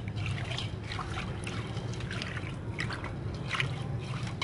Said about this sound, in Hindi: उसके बाद इसमें अच्छी तरीके से चम्मच हिला लें, ये सारा हल हो जाए।